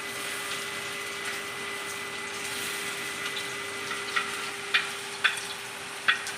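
Goat liver and goat brain fry on a hot griddle, giving a steady broad sizzling hiss with a few sharp pops and crackles near the end. No one speaks.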